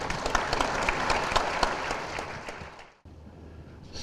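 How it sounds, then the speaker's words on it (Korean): Audience applause at a church denomination gathering, a steady burst of many hands clapping that dies out after about three seconds, followed by quiet room tone. "우리 박수로 환영합시다"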